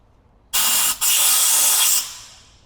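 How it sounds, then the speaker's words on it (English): Brake cleaner sprayed from an aerosol can into a brake caliper pin on a 2020 Ford F450, two close, loud hissing bursts, a short one then a longer one, trailing off quickly, with no talking. "spraying a little brake clean in there into the pin"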